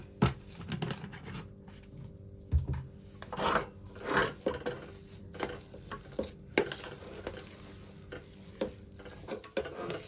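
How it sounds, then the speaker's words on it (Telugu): A spoon scrapes and stirs a thick semiya flour mixture with ghee in a pan, with irregular knocks and soft scraping strokes over a faint sizzle throughout. "ఒక స్పూన్ నెయ్యి వేసుకుందాము నెయ్యి వేసి కలుపుకుందాం"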